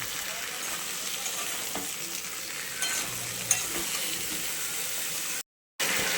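Ginger, cumin and green chilli paste sizzles and fries steadily in a pan while being sautéed, with faint scraping stir sounds and a brief silent gap near the end; no talking.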